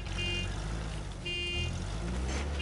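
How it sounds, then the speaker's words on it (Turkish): A car engine idles steadily in the Uncharted video game, a continuous low rumble with faint tonal whine, heard close and unbroken with no talk over it. "Bak, motor çalışıyor araçta yani."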